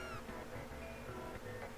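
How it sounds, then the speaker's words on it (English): Cat in the Chrono Trigger video game, a quiet in-game sound of several short meows in a row heard over faint background music, with no talking. "That's his kitty."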